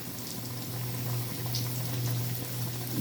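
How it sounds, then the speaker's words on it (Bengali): Rohu fish curry with ridge gourd boiling in a pan, a continuous close bubbling and gurgling hiss with no talk. "ঝোলটা ফুটে উঠে মাছটাও ভালোভাবে ওর সাথে মিশে গেছে"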